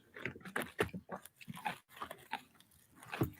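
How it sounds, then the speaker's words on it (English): A dog chews and crunches on a treat up close, with irregular wet bites and gnawing sounds repeating in quick uneven bursts. "You hear her chewing it up?"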